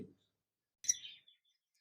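A pair of lutino Fischer's lovebirds in a cage gives one short, high chirp with a faint follow-up peep, set against near silence.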